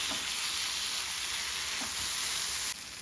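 Chicken frying in ghee for a cashew chicken fry, a steady loud broadband sizzle with a few soft stirring scrapes, ending with a slight drop in level.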